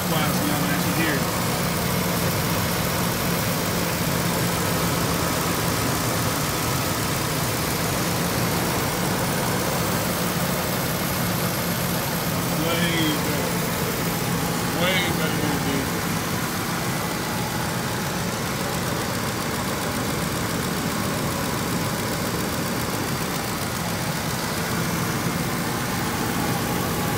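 A 2006 Lincoln Navigator's 5.4L 3V V8 idles steadily and loud throughout, a continuous low rumble with faint background noise.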